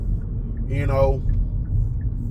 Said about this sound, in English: if you hear any background noise, I am driving in the car right now